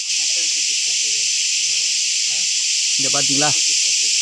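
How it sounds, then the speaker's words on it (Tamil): Dense insect chorus fills a thick forest on the Velliangiri hills, a steady high shrill hiss running throughout, with someone speaking briefly over it. "ஃபுல்லாக பூச்சி சவுண்டு தாங்க. ஒரு அடர்ந்த காட்டுக்குள்ளே பாதை இருந்தால் எப்படி இருக்கும் அதே மாதிரி தாங்க இதுவும்"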